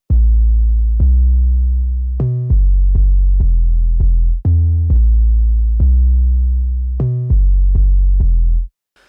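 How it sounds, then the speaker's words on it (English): An 808 Codain bass patch from the Modern Sauce sampler plugin plays a loud, deep, sustained bass line of about a dozen notes in a steady repeating pattern, heard alone with no talking. "I decided to use this 808 Codain bass"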